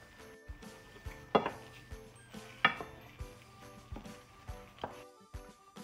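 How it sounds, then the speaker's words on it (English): Apple pie filling stirred in a pot to melt the sugars, a spoon clinking and scraping against the metal in a steady rhythm of close strokes, with faint sizzling underneath and no talking. "we'll stir to melt all of the sugars"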